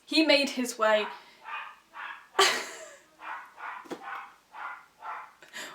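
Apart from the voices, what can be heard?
excited dog barking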